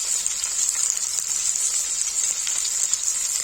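Kashmiri palak nadru, spinach with lotus stem, fries with a steady, dense sizzle that stays close and even throughout, no voices present.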